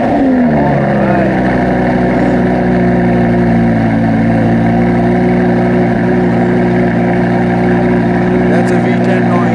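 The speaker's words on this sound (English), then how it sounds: "That is a naturally aspirated V10 with over 500 horses." Lamborghini Gallardo Superleggera LP 570-4 with a naturally aspirated V10 and custom exhaust, idling loud and steady with a deep layered drone close by, holding an even pitch throughout.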